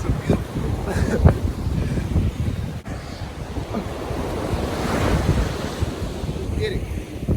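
Waves breaking along Fort Lauderdale beach produce a continuous roaring wash, with a surge building midway, wind rumbling against the microphone and faint voices in the background.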